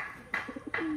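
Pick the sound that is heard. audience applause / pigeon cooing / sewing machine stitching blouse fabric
pigeon cooing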